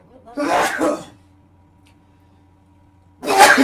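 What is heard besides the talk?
sneeze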